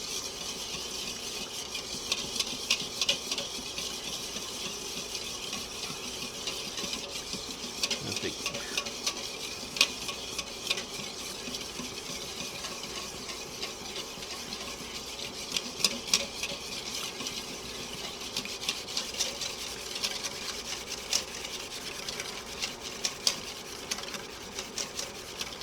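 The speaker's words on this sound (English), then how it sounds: "You just want to constantly stir the eggs until it starts to thicken." Eggs are stirred constantly in a pan while an Eggs Benedict sauce thickens, a continuous scraping and whisking texture with a soft sizzle underneath and no voices.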